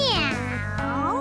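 Morgana, the cat character in the Persona 5 Strikers video game, lets out a single drawn-out meow, loud and close over a soft game music backdrop.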